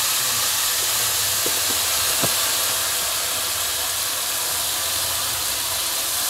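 Cauliflower pieces tipped into a hot pan, a steady broadband sizzle and hiss holding throughout, with a few faint clicks early on and no talking.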